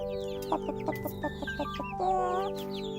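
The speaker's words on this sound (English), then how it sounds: "She takes care of the chickens for the Morgans" Chickens in a coop beside a house cluck in quick, close bursts, followed by one hen's longer drawn-out call near the end, with no talk.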